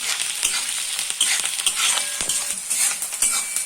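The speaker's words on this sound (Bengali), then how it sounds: "প্রথমে আমি কুচনো পেঁয়াজটা আমি তেলে দিয়ে দেবো। এটা একটু হালকা আমি ফ্রাই করে নেবো।" Chopped onion frying in hot oil for a dhaba-style tadka, a bright steady sizzle broken by repeated scraping stirs and light clicks of a utensil against the pan, close and alone.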